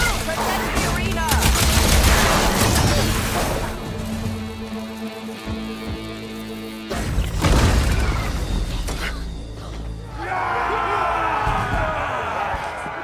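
Heavy cannon fire in the video game Horizon Forbidden West during an arena fight, a dense run of loud booming blasts and impacts, with a game character's voice over the noisy action.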